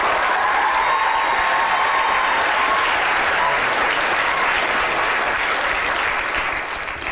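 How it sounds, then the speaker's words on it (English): Loud, sustained audience applause from a lecture hall crowd welcoming a guest scientist, a dense, even wash of clapping that fades slightly at the end. "So give a big round of applause to Vince."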